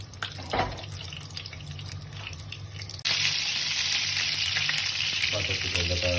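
Oil and a small knob of butter hit a pan for a creamy garlic prawn curry, starting as a faint crackle and then jumping into loud, steady sizzling that continues to the end.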